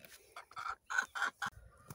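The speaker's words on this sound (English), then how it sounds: "Listen to that. You gonna lay an egg, chicken?" A chicken clucks several times in short, close bursts, fairly quiet with brief pauses between.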